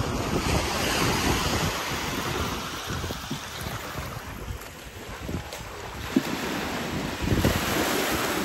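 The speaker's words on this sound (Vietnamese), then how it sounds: "Gió ha." Steady wind and surf roll in at the La Gàn fishing wharf in Tuy Phong, Bình Thuận, a constant broadband roar with gusts buffeting the microphone and no voices.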